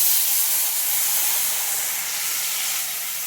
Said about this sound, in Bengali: এবার দেখো জল ঢেলে দেবো